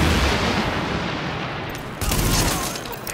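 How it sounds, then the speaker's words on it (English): Heavy gunfire from a rooftop gunner in the shooter video game The Division roars as a dense, continuous barrage, loud and close, with a sharp fresh volley partway through. "The escort party's taking heavy fire from the roof."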